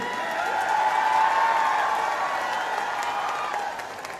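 A large crowd at a political rally applauds to welcome a party leader, loud continuous clapping with some cheering mixed in, a faint tone running underneath, easing slightly toward the end.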